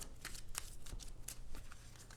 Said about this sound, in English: you're going to take the passenger cards, give those a good shuffle